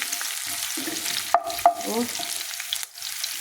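Chopped onions sizzle and fry in a hot pan, a continuous close crackle with a couple of sharp stirring scrapes and a short voice murmur partway through.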